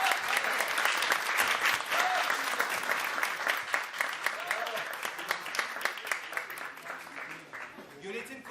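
Steady, full applause rises from a crowd at a foundation iftar dinner, sustained throughout with some voices and murmuring mixed in beneath the clapping.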